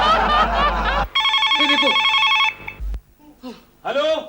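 A mobile phone rings with a bright repeating electronic tone, loud and close, following music and preceding brief speech; the ring cuts off and voices and laughter follow.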